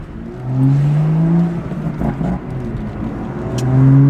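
Close, loud revving of a BMW M2's N55 engine, rising through tones, dipping briefly, then climbing again with a throaty whine.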